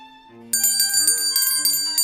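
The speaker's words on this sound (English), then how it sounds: "Ring the bell." A bright bell rings several times in quick succession, sharp metallic dings over a softer tone, close and clear with no speech.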